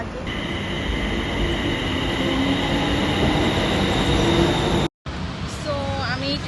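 Train rolling past a Bangkok market, a steady loud rumble of wheels and carriages with high squealing tones, a short dropout near the end, then renewed noise with faint voices.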